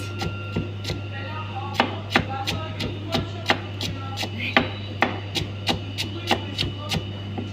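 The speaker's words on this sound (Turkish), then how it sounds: "Şu salatalık doğrandım arkadaşlar." A knife chops cucumbers on a cutting board in a kitchen, a steady run of sharp, close taps roughly every half second over a constant low hum.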